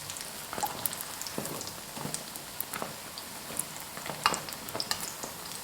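Large homemade dough twists deep-frying in hot oil give a steady, close crackling sizzle scattered with small pops, with no talking.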